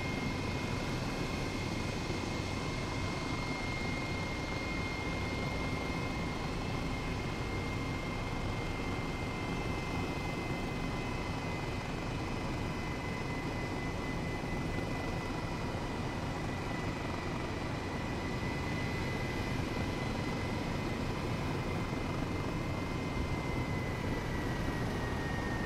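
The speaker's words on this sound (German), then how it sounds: "ob wir eine saubere Landung hinbekommen, weil das ist mit dem Helikopter tatsächlich gar nicht so einfach" An Airbus H135 helicopter in Flight Simulator whirs with a constant rotor and turbine drone during a landing, steady and moderately loud throughout with no speech.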